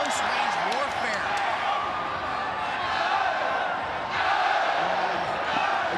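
Dense, steady crowd roar fills a Muay Thai fight at Lumpini Stadium, with shouting spectators close around and a slight surge in intensity partway through.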